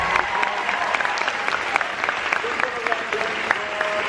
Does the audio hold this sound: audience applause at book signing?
yes